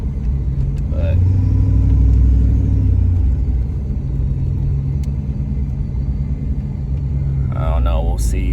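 1978 Chevrolet Caprice Aerocoupe engine running and its transmission shifting hard, a steady low rumble that swells and settles as the car moves, with someone talking over it.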